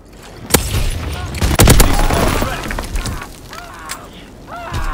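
Call of Duty WW2 combat: sharp gunshots crack out, followed by a heavy explosion boom that rolls away into a rumbling tail. Scattered shots and mechanical clatter follow, with faint voices in the background.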